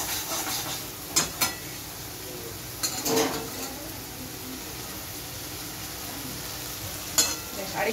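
Spice masala frying in a pan, a low, steady sizzle with a few sharp spoon scrapes and knocks spaced apart, close but fairly quiet.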